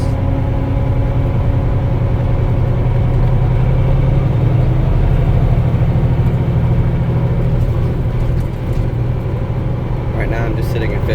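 A Kenworth T800 truck cruises in fifth gear, its engine a loud, close, continuous low drone with steady harmonic hum that holds evenly throughout.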